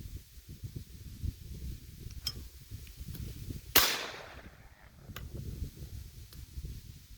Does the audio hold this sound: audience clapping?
no